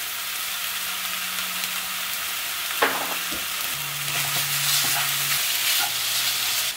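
Cauliflower rice frying in a pan, a steady broadband sizzle with occasional clacks of a utensil stirring through it, continuous and close with no voices.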